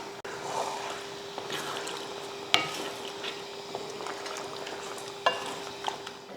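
Chicken curry bubbling and simmering in a kadai after water is added, a soft steady hiss broken by occasional sharp pops and faint clinks.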